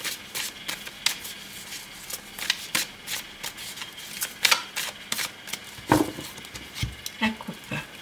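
Tarot cards being shuffled by hand make a quick series of crisp riffling snaps and slaps, close and fairly soft, repeating irregularly with no talk.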